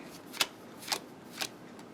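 Hand-painted Italian tarot cards being leafed through, three soft papery flicks spaced evenly about half a second apart, faint and close.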